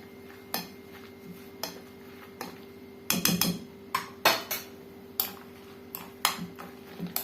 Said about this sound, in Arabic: غادي نخلطوا المكونات ديالنا حتى ينسجموا مع بعض